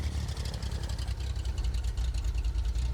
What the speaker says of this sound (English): Press the starter button and we've got a good start.